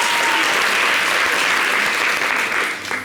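A studio audience on a television show bursts into loud, dense clapping, sustained and close, tapering slightly at the end.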